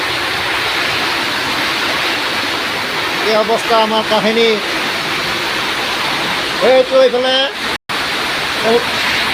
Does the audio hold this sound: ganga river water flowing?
yes